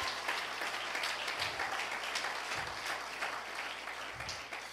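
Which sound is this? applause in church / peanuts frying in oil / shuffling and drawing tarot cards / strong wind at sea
applause in church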